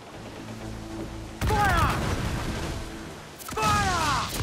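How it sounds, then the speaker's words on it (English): Mortar fire bursts out twice during a ship siege in Assassin's Creed IV: Black Flag, each loud booming blast followed by crashing debris and whistling streaks, over a steady low rumble of battle. "We're still being besieged by mortars."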